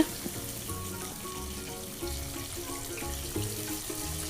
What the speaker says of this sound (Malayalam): ഇനി നമുക്ക് ഇതിനെ മീഡിയം ഫ്ലെയിമിൽ ഒരു 5 മിനിറ്റ് നമുക്ക് ഫ്രൈ ചെയ്തെടുക്കാം